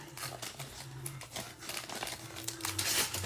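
A trading card pack, a thicker one likely holding a memorabilia card, is torn open with close crinkling and ripping foil sounds over about three seconds, with no talking.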